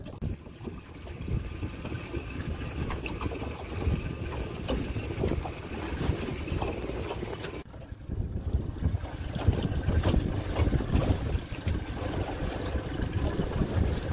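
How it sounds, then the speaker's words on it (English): Strong wind rushes steadily over a fishing boat on San Francisco Bay near Oyster Point in rough water, a loud, continuous buffeting roar with a brief dip before it swells again. "it's so windy, wind picking up now"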